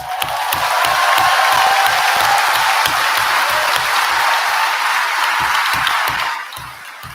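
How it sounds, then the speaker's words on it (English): Loud, dense applause from a large audience with cheering, clapping for themselves at an event, sustained for several seconds and tapering off at the end. "give yourselves a massive round of applause"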